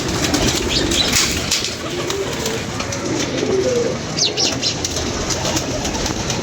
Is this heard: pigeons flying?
yes